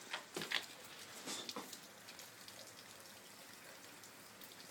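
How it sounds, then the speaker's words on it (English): Rain keeps falling outside on a cold day, a soft constant patter with a few louder drops hitting early, fairly faint and without voices. "Yeah, unfortunately it's still raining a lot."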